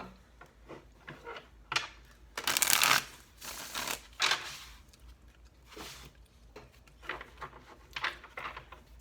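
Tarot cards are shuffled close by in several quick riffling bursts, one loud flurry standing out among softer shuffles and brief pauses.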